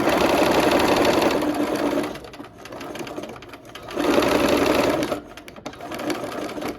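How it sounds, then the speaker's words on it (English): A sewing machine stitches the last rows of a nine-patch quilt block in loud, close bursts of rapid needle chatter, with two long runs broken by slower, quieter stretches and brief pauses. "We'll sew these last rows on the 9 patch."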